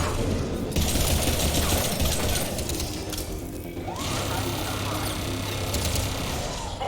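Rapid bursts of gunfire from a Mass Effect 3 firefight, loud and dense, rattling almost without pause from start to end over a steady game din.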